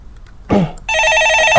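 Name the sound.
telephone ringing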